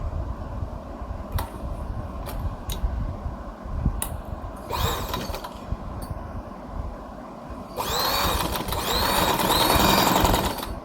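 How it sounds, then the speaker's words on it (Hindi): Sewing machine stitching white-threaded piping onto a garment neckline, running in steady mechanical bursts with a louder, sustained stretch of stitching near the end. "तो अभी मैं इसको सिलाई लगाऊंगी ताकि ये ना इसके साथ अच्छी तरह से सेट हो जाए।"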